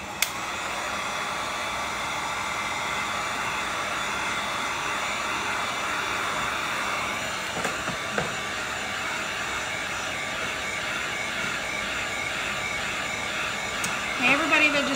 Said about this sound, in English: If you're like me and impatient and you want to make it dry faster, use a heat gun.